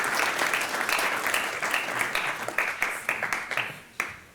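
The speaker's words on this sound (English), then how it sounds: "Yeah, you can clap." Audience applause at a civic forum on state and local government, a moderate burst of clapping that thins out toward the end, with a few last isolated claps.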